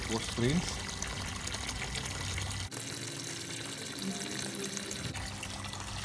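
Backwash rinse water from a 1054 water filter pouring and trickling steadily at close range, a continuous wet splashing flow with a brief break midway, while someone talks over it.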